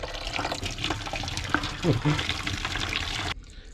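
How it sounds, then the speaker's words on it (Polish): Water poured off from a pot into a sink, a continuous splashing liquid rush with a brief gurgle, moderately close, with muffled voices in the background before it cuts off. "Zlewamy wodę."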